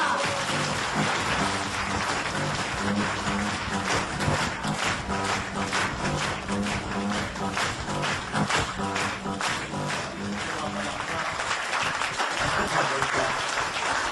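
A seminar audience applauds to welcome a speaker at a marketing presentation, dense sustained clapping filling the room at steady loudness throughout.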